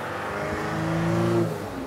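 A cheap used van engine revs up under full throttle, a rising, close, steady drone lasting under two seconds with no talking.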